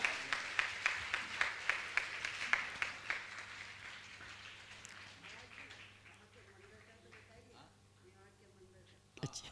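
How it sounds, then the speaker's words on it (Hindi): Clapping from an audience at a Jain religious gathering, a scattered burst of hand claps up close at the start that thins and fades under quiet murmuring, ending with a brief bump of noise. "दोनों हाथ उठा के आपकी तालियां अनुमोदना के लिए बजना ही चाहिए।"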